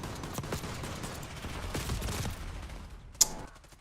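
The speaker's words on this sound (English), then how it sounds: "I'm gonna go shoot him in there." Gunfire in the video game Call of Duty Black Ops 6, a rapid run of shots and bursts over a noisy battle bed, ending with one sharp, loud crack near the end.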